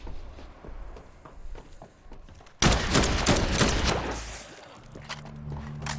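Gunfire in Dead Island 2 on PS5 breaks out as a sudden loud burst after quieter footsteps and game ambience, then continues as dense noisy rattling for a couple of seconds before fading into a low hum.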